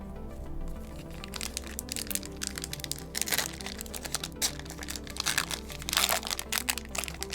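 Magic: The Gathering booster pack wrappers from Adventures in the Forgotten Realms and Battle for Baldur's Gate being torn open, a quiet close series of crinkling, crackling foil tears with soft handling between them.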